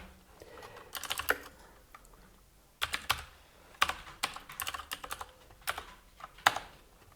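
Fingers type on a computer keyboard in quick, uneven bursts of close, crisp key clicks with short pauses between runs. No one talks.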